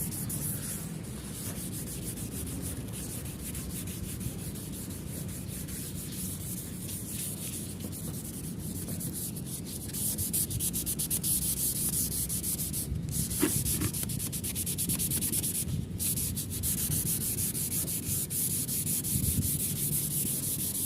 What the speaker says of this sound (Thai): ขัดซ้ำอีกเก็บความละเอียดให้ทั่วครับ